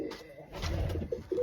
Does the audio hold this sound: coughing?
no